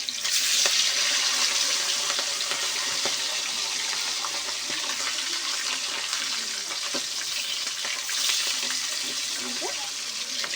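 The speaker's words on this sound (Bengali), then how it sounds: "এপিট ওপিট করে লাল লাল করে ভেজে নেব" Whole fish pieces, head included, frying in hot oil and being turned, giving a steady broadband sizzle that fills the clip with occasional small pops and clinks.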